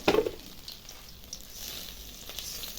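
Fish frying in hot oil in a pan gives a faint, steady sizzle, opening with a brief clatter.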